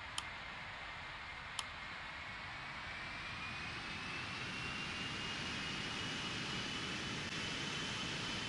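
A jet airliner's engines hold a steady, faint broadband roar during takeoff in a flight simulator game, with two brief ticks early on and no talking.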